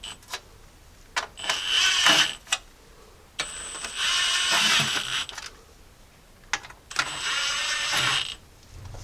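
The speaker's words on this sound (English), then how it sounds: "then we'll start tightening them up with the ratchet" Ratchet snugging transmission pan bolts on a 1978 Jeep J10 with a TH400 transmission, heard as three separate bursts of fast mechanical clicking, each one to two seconds long, close and fairly loud with short pauses between.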